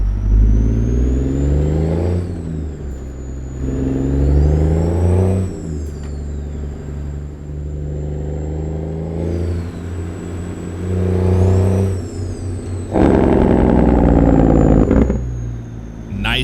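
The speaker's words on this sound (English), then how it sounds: "now we can listen to this thing from the outside view because it's such a great sounding engine" A heavy truck engine in American Truck Simulator, hauling a Volvo excavator, heard from outside: deep loud diesel drone rising and falling through several revving gear shifts, with a high whine above, no talking.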